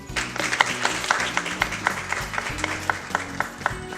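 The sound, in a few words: applause from the audience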